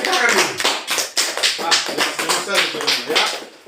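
A small group of students in a classroom claps in quick, uneven bursts, the sharp hand smacks mixing with some talking in the room.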